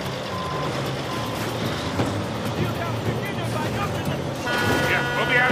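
A truck's reversing alarm in Uncharted 4, its repeated electronic beeps ringing out loudly over a rumbling engine and steady background noise.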